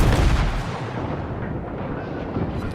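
Heavy naval guns roar from a Tier 7 Atlanta cruiser in World of Warships, a dense, rumbling barrage that booms loudly at first and then rolls on as a steady low thunder.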